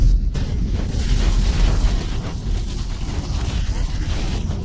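Rumbling booms and cannon blasts in GTA 5, a dense, loud stretch of heavy low explosions with a sharp burst at the start.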